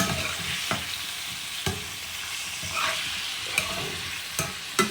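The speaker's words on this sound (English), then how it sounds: "Put the ackee in. Give it like a little stir." Ackee stirred in a cooking pot for Jamaican ackee and saltfish sizzles steadily up close, punctuated by about six sharp knocks and scrapes of the spoon against the pot at irregular intervals.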